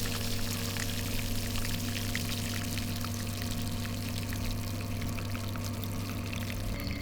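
Wort recirculates through the tap of a Grainfather S40 brewing system, a steady, continuous pour of liquid with a low mechanical hum beneath it, close and even throughout, with no talking.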